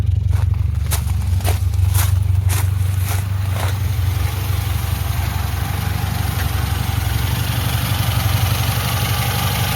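A low, steady car engine idle from a 1.6 VAZ 1118 with a repaired cylinder head rumbles evenly throughout, with a few brief clicks early on and no talking.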